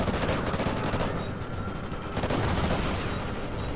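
Gunfire from Call of Duty Ghosts rattles continuously in rapid, dense bursts, loud and close with booming low rumble throughout, no pauses in the shooting.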